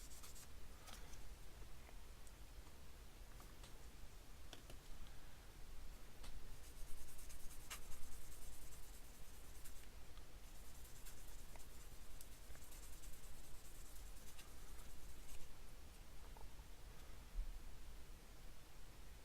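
Buffing pads sand a plastic piece to restore its shine, a faint, close scratchy rubbing in repeated strokes with soft rustling, no voices over it.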